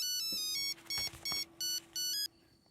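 A mobile phone rings with an incoming call, a bright electronic ringtone of repeated melodic tone bursts in a quick rhythmic pattern, close and clear, before cutting off.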